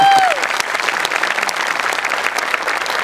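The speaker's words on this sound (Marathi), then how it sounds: "जोरदार टाळ्या त्यांच्यासाठी एकदा." An audience claps loudly and steadily at a live comedy stage show, a dense sustained wash of applause from start to finish.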